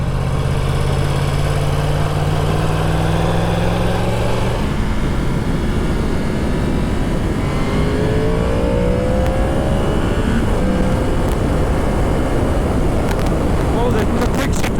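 A new Yamaha R1 motorcycle at full throttle with a quick shifter, its engine pitch climbing, dropping at a shift, then climbing again, loud and continuous with wind noise and voices over it.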